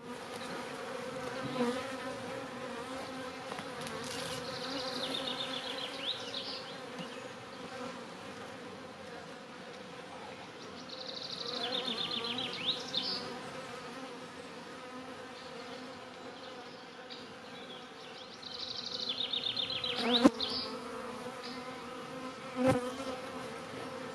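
A honeybee swarm in a nucleus hive buzzes steadily and softly, a dense insect drone that swells in a few louder waves, with occasional knocks and no talk.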